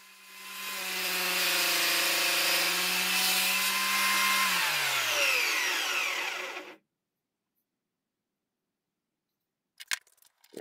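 A table saw cuts wood for cam clamps, a loud sustained whine for about six seconds that sinks in pitch as the blade winds down, then silence and a few faint clicks.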